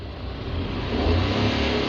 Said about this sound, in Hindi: आवाज़ सुनो उसकी इंजन की